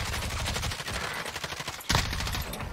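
An enemy opens fire in Call of Duty: Warzone, rapid rhythmic automatic gunfire at moderate distance rattling steadily, capped by a sharper, louder shot near the end.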